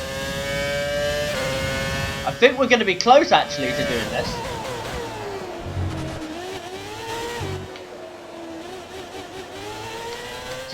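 A Jordan Formula 1 race car engine in F1 2020 revs hard at the China circuit, pitch climbing and dropping through gear changes with brief tyre squeal, loud and close beneath someone talking.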